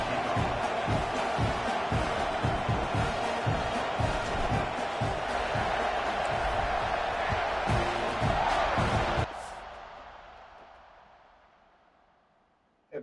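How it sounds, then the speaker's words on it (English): Dense, loud crowd roar and cheering from fans in a college football stadium during a video game, sustained for several seconds before cutting off abruptly and fading into quiet. "these fans, they get something to cheer about with that first offensive possession"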